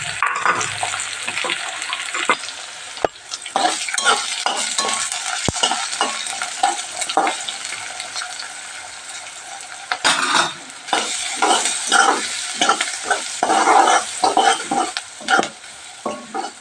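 Onions and green chillies frying in oil for a kadhi tempering, a continuous sizzle broken by repeated spoon scrapes and clacks against the pan, close and busy throughout.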